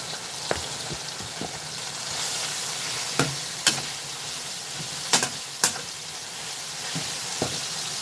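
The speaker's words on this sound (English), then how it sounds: "I'm going to add the peppers and the chopped garlic." Peppers and chopped garlic go into a hot pan, giving a continuous close sizzle broken by several sharp clicks and scrapes of a utensil.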